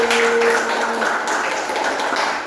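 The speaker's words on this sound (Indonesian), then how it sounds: "sekali lagi tepuk tangan untuk nomor 1" A classroom audience applauds a student presenter, a brief wash of moderate clapping with a faint tone fading early and no talk over it.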